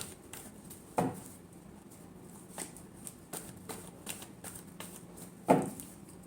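Tarot cards are shuffled by hand with a soft, continuous riffling rustle, broken by two sharper taps as the deck is squared, close and quiet.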